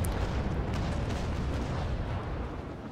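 Broadside cannon fire from a frigate in the Naval Action naval battle game, a heavy rumbling roll of overlapping booms that fills the whole stretch and slowly fades, loud and dense with no voices.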